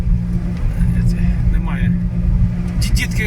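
A car pulls away along a street in Kharkiv's Saltivka district in winter, its engine a steady low rumble heard from inside the vehicle while a person talks over it.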